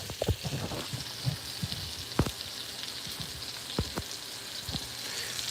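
Bacon-wrapped turkey medallions and mushrooms sizzle steadily in a pan, with a few sharp scrapes and clacks as a spatula stirs and flips them, close and fairly loud with no talking.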